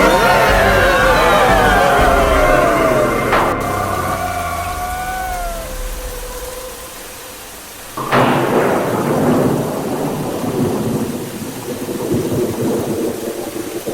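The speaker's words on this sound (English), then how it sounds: "Is it raining in there? It's raining out here, too." Rain and thunder from a spooky cartoon sound-effects track: a long rolling thunderclap fades out, then a second sharp crack rumbles on over steady hissing rain.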